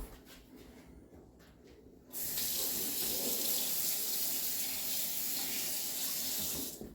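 Tap water runs steadily from a kitchen faucet to rinse off a milkshake-making utensil, switching on loudly after a quiet start and rushing on without pause.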